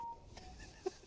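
Mobile phone switched to silent mode inside a parked car, giving a short electronic tone at the start and a brief sharp beep near the end, both faint against quiet cabin background.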